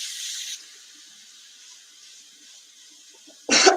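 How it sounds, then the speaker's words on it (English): Cold tap water runs over freshly cooked lasagna noodles in a kitchen sink, a bright hiss at the start that cuts off, then near silence before the flow gushes back loudly at the end. "You run some cold water over it."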